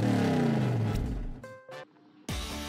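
A race car engine revs in the Team Sonic Racing video game, a loud roaring rev that drops off, followed by short game effect bursts and a fresh engine surge at the end.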